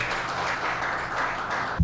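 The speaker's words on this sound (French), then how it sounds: "je réclame une salle d'applaudissements pour tout le comité" Audience applause at an organization's launch event, a continuous even wash of clapping from a hall full of people, moderately loud, ending with a low thump.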